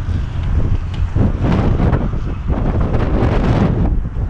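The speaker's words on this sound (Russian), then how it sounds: "Какой ветер." Strong winter wind buffets the microphone outdoors near Kemerovo, at about minus five degrees, making a loud, steady roaring rush with gusty swells throughout and no voices.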